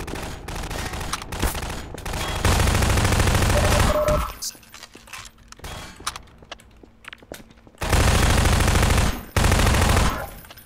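Rapid automatic gunfire from the Half-Life 2: Aftermath video game, coming in loud sustained bursts separated by quieter stretches of scattered shots and footsteps, with no talking.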